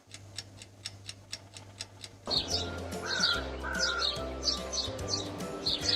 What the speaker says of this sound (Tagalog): Huni ng ibon ang inyong narinig.